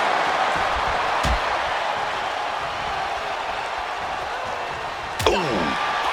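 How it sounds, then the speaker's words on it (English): A slap lands in the wrestling video game WWE 2K26: two sharp smacks, one early and one near the end, over a constant roar of arena crowd noise. "Oh, what a slap."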